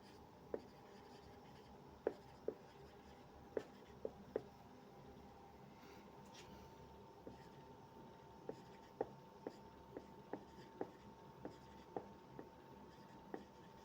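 Chalk or a marker taps and scratches on a board in a classroom physics lesson, a quiet scattering of short strokes at irregular intervals over a low room hum, with no talking.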